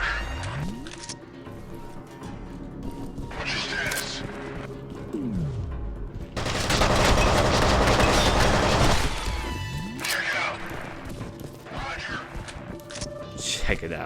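Game gunfire and explosions rattle through a firefight in F.E.A.R. Extraction Point, with bursts and loud booming blasts peaking mid-clip, then continuing in scattered shots over a layered game soundscape.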